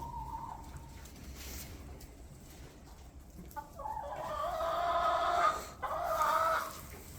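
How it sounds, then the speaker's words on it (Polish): Hens in a chicken coop cluck quietly at first, then build into louder, drawn-out cackling calls near the end. The calls are close, with a low rustle underneath. "Te kurki już niosą, ta, ta nie wie, gdzie jest nieść, bo cały czas łazi."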